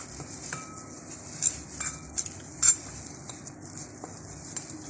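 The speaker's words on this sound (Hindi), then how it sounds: "सारे मसाले हमने मिक्स करने हैं।" Garam masala and red chili are mixed by hand in a bowl: a soft, steady scraping stir punctuated by several light, sharp clinks of spoon against the bowl, fairly quiet and close.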